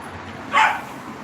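A single short dog bark or yip rings out once at moderate volume against a quiet background, with no talk around it.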